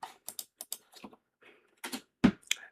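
Short burst of clicks on a computer keyboard, a handful of light, uneven keystrokes close by in a quiet room.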